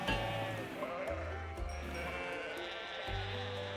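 Sheep bleat in the video game Love and Deepspace, several drawn-out low calls in succession under a dense layer of music.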